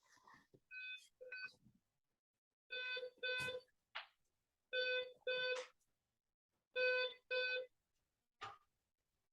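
Fancy electronic door buzzer in a London penthouse, sounding in repeated paired tonal beeps separated by short pauses, clear and alone.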